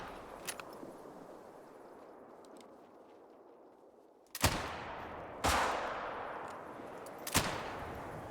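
Three sharp rifle reports with iron sights in theHunter: Call of the Wild hunting game. Each crack is loud and close and trails off in a long decaying echo, spaced about a second apart after a quiet stretch of outdoor ambience.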